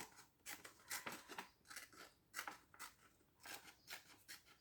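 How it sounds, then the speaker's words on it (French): Scissors cutting roughly around shapes in paper for an art journal, a run of quick close snips and rustling cuts in uneven rhythm, faint and with no voices. "je découpe en gros"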